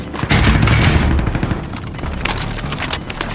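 Dense, loud automatic gunfire in Call of Duty: Modern Warfare, with rapid overlapping shots and booming blasts across the whole stretch and no break.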